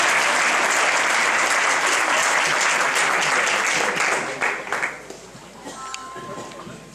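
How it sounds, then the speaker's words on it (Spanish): Audience applause for a ten-year-old bagpipe player at a bagpipe competition, loud and steady clapping for about four seconds before thinning out and fading, with a faint tone lingering at the end. "Un aplauso para Alfredo."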